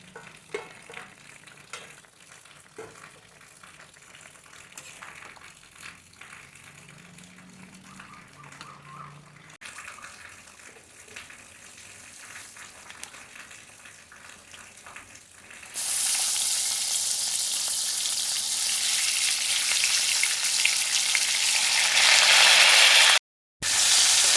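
Fish goes into a pan beside brinjal curry, and a quiet background of cooking builds into a loud, close, hissing fry. The sizzle holds steady for the last several seconds, then cuts off briefly.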